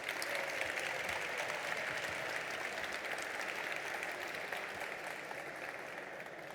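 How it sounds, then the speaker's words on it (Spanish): Audience applause at a panel on music and video games welcomes a performer, a continuous wash of many hands clapping at moderate distance, steady and then easing slightly toward the end, with no talk over it. "Un aplauso para ella, por favor."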